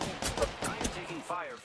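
Gunfire in the Apex Legends video game, several quick bursts of shots crackling close by, mixed with a player's voice talking.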